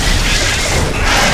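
A building blown apart in the video game The Riftbreaker, a loud dense crashing boom with rumbling debris that fills the whole moment without pause.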